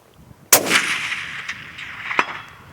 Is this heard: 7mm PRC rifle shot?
yes